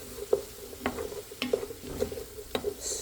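Flour is stirred into translucent onions and a splash of chicken broth in a soup pot. Close scraping strokes repeat every half second or so over a light sizzle, with no talking.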